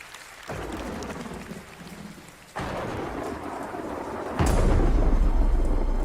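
Rumbling thunder sound effect rolls over steady rain at a live song-contest stage show, building in loud bursts with a sharp, heavy crack near the end.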